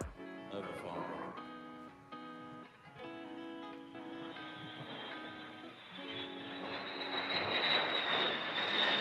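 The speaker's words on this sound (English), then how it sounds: "Another wondrous flight sighting over Farnborough." An aircraft with Pratt & Whitney engines flies over Farnborough, a roar that builds steadily louder toward the end beneath a steady musical background, with a voice partly audible.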